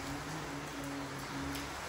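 Steady rain falls in a dense, even hiss that stays close and constant through the short moment, with no voices.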